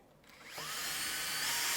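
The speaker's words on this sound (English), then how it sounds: "So why not use the support which is here, drill in there, and then see what happens." A power drill bores into a plastic tube support, its motor whining up in pitch and then holding a steady, loud, close grinding drone with no talking.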